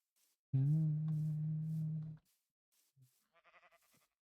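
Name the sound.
sheep bleating in Minecraft video game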